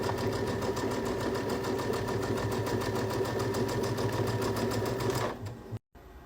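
Embroidery machine running steadily in the hoop, stitching a fabric beach bag panel with a rapid, even mechanical chatter that cuts off near the end, followed by a brief silence.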